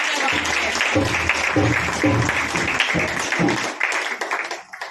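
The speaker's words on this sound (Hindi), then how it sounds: "परमेश्वर के इस बड़े महाअभिषेक के लिए हम परमेश्वर का जोरदार ताली के साथ" A congregation claps loudly during a church healing service, with steady applause running under a voice that speaks and calls out over it, then tapering near the end.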